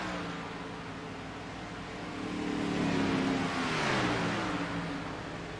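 Race car engines roar in a sim racing game at Auto Club Speedway, a steady high-pitched drone that swells as a car passes close around the middle and then holds loud to the end, with no talk.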